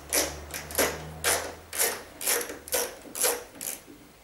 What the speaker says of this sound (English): Before taking the panel up, we need to undo one screw here.